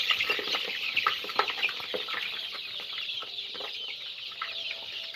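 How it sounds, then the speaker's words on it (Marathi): Startled chickens in a poultry brooding shed cluck and squawk continuously, a dense flock chorus with sharper individual calls and some wing flutter, close and fairly loud throughout. "ब्रूडिंग साठी आता हे पक्षी बावचाळले थोडे आपल्यामुळं"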